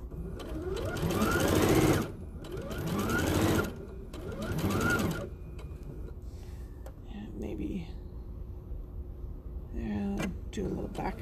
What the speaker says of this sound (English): now I'm just going to turn and top stitch that closed roughly where it was earlier